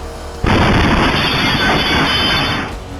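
A sudden loud blast from a car explosion in Delhi erupts into a heavy, rumbling roar that holds for about two seconds before fading away.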